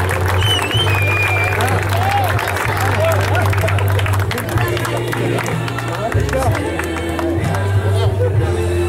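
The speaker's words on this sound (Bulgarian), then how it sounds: "Аплодисменти за Георги Пеев!" Audience at a football tournament award ceremony clapping steadily through the whole stretch, a dense crowd roar mixed with chatter and a low droning hum under it.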